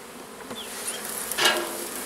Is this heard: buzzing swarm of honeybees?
yes